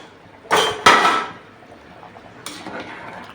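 A metal lid lifted from a pot of chicken biryani, two sharp clanks close together followed by a fainter clatter, near and loud with no talk.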